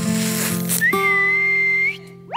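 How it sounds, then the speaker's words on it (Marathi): A person whistles a single sustained note lasting about a second, close and clear, over background noise, followed by a brief rising sound. "ए तू शिट्टी का मारलीस?"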